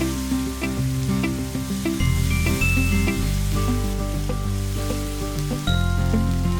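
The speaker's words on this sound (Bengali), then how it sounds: "পেঁয়াজটা একটু ভালোভাবে ভেজে নেব আমরা।" Onion paste frying in oil for a Bengali vetki fish curry with cauliflower and potato gives a steady sizzle, largely masked by prominent tonal music that runs throughout.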